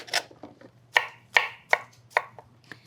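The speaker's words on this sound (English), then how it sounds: "I'm gonna chop up the mushrooms" A knife chops through mushrooms on a board in sharp, evenly spaced, close strikes, about one every third of a second with lighter taps between them, while someone prepares a late summer dinner party.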